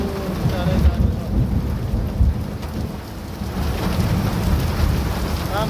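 Heavy rain and hail pounding down in a monsoon storm, with deep thunder rumbling throughout. The downpour is a steady, dense roar with low rolls of thunder, and there are no voices.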